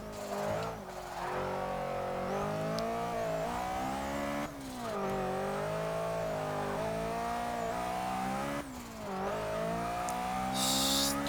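A 1993 Renault Clio Williams in Forza 6 revs and pulls hard through the gears, its engine note rising and dropping at each shift, loud and continuous with a brief high squeal near the end.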